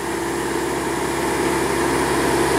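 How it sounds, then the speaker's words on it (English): A land-based drill rig's engine runs steadily at a worksite, a constant loud mechanical drone with an even vibrating hum throughout and no talk. "are back at the drill rig, and they're going to break the drill steel"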